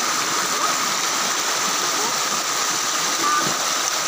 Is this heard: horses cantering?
no